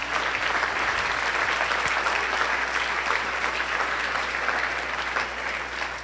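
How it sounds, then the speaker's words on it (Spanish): A church congregation applauding at a Sunday service, dense sustained clapping from many hands filling the space at an even level throughout, with a low hum underneath and no talking. "denle un aplauso al Rey,"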